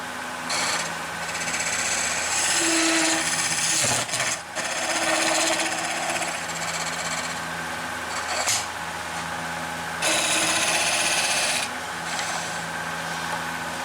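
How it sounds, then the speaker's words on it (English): Flat chisel scraping a spinning wooden chalice on a lathe: a steady, loud whirring rasp that runs the whole time, with two brief breaks as the tool lifts and comes back. "I'm going to take my flat chisel and clean that up"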